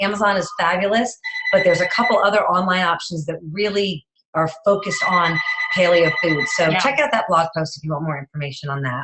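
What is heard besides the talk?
telephone ringing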